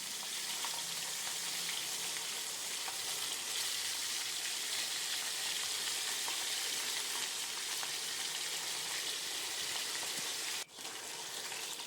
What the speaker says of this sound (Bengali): বেশি করেই তেল দিয়ে দিলাম মাছও ভাজা হয়ে যাবে আলু পটলগুলো ভাজতে হবে